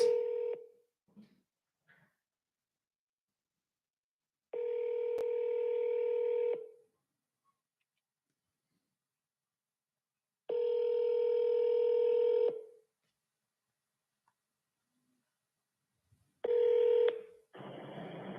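A telephone plays three separate two-second dialing tone bursts with silent gaps between them, followed by a shorter fourth tone at the end while a call to a seller is placed.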